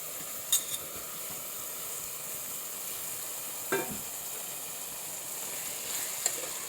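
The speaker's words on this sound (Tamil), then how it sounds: "இப்போ இருக்கிற காய்கறி எல்லாத்தையும் சேர்த்து நல்லா கிண்டி விட்டு வதக்கலாம்." Carrot, knol-khol, potato, beans and peas sauté in a pan for vegetable pulao, producing a faint, even hiss of frying. A few brief stirring scrapes sound at scattered moments, and no one speaks.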